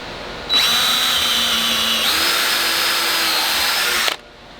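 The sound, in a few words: power drill drilling holes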